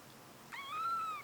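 A pet cat lets out a single rising-then-falling meow, close and clear against a quiet room.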